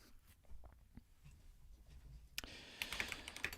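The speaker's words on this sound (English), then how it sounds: "ChatGPT, I'm just typing in." Quiet typing on a computer keyboard gives scattered soft clicks at first, then a louder, quicker burst of keystrokes near the end.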